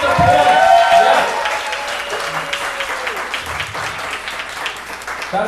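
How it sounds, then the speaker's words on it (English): Open mic audience in a café applauds a poet, a strong burst of clapping and cheers that settles into steady, lighter applause, with a voice speaking over it at the start. "let's have another round of applause for Aaron"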